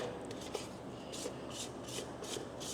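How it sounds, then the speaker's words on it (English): A spatula scrapes the sides of a pan of homemade condensed milk, giving soft repeated rasping strokes at a steady rhythm, close and fairly quiet. "what I'm going to do is just give my sides a good scrape"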